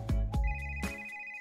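A telephone rings a few times on the other end with no one answering, a steady electronic tone over repeated thumping pulses, close and moderately loud with no talk.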